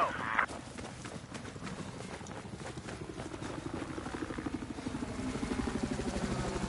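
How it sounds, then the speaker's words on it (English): Enemy helicopter in the video game Battlefield 4, its rotor giving a steady rapid chopping thrum that builds slightly over several seconds, with a brief sharper burst of noise at the start. "I spotted an enemy chopper."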